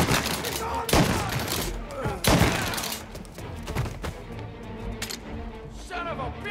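Rapid bursts of gunfire fill a shootout in the video game Mafia: Definitive Edition, with loud overlapping shots and thuds, several sharp volleys standing out, and shouted voices mixed in.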